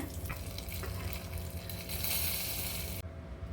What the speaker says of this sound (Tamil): கடுகு பெருங்காயம் கருவேப்பிலை தாளிச்சதை சேர்த்துக்கிறேங்க